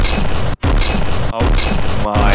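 A custom-built cannon in the naval combat game From the Depths fires repeatedly in rapid, booming blasts, loud and close like a barrage of artillery, with brief gaps between rounds and a player exclaiming over the noise.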